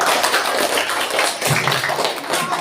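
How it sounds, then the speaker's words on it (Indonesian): Classroom group of students clapping hands together, a loud, busy, sustained patter of many claps close by with some faint voices underneath. "Oke, tepuk tangan untuk kita semuanya."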